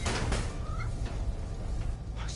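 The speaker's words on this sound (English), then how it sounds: "Just need to find Teo's cat" A cat meows in Spider-Man: Miles Morales, a few faint mews over dense city ambience and rumble.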